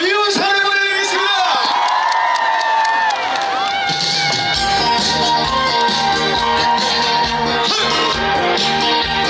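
Audience at a live outdoor concert during a surfing festival cheering, whooping and clapping, a loud crowd roar that swells and continues under music and amplified voices.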